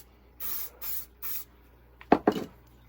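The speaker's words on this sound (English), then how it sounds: "I take some of the mold release and I just spray a little bit on here." Short hissing bursts of mold release sprayed from an aerosol can onto a plastic bait mold for fishing lures, three even puffs close by, followed by a couple of sharper handling knocks.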